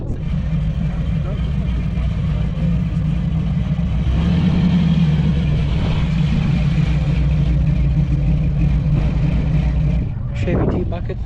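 A Chevy T-Bucket hot rod with a .528 stroker engine and EFI rumbles and revs steadily at an outdoor car show, a deep continuous engine sound that swells midway, with crowd noise and voices around it.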